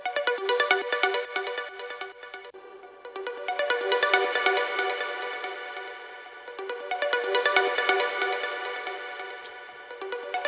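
A bright synth melody that sounds like a ringtone, with reverb added, playing a repeating pattern of short plucked notes that swells and fades in waves, with no voices.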